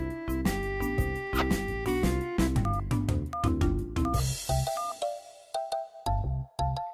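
A mobile phone rings on an incoming call in a household scene, a repeating electronic melody of short tonal beeps in a steady pattern that thins to sparser notes toward the end, heard alone without talk.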